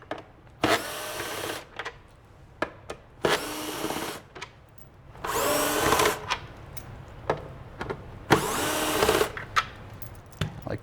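A power drill backs screws out of the top of a NICE1 unit in four short, loud whirring bursts separated by pauses with light clicks and handling noises.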